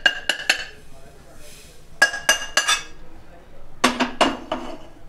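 Roasted poppy seeds scraped from a kadhai onto a plate, with several sharp metallic clinks and scrapes in three quick bursts, close and fairly loud.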